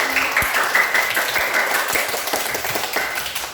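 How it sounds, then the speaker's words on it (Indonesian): Classroom applause from a group of schoolchildren, steady dense clapping throughout, fairly close and continuous with no talk over it. "tepuk tangan dulu buat kita semua"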